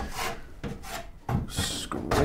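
A tool scrapes out wooden bird nest boxes with steady, close, rasping strokes of wood on wood, about five rough scrapes in a row.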